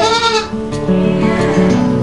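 A young goat kid of the Bligon breed bleats loudly and close by, one wavering, quavering cry that sustains and shifts pitch across two seconds.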